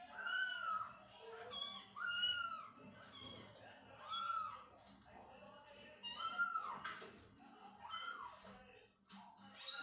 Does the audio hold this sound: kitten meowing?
yes